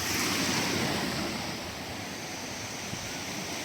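Sea waves and strong currents wash continuously onto Bournemouth beach in summer, with a broad, steady surf rush close by and wind buffeting the microphone.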